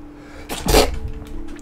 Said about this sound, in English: Ugh, that was a hell of a sneeze.